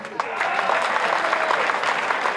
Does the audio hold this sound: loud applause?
yes